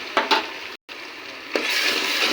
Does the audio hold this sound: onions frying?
yes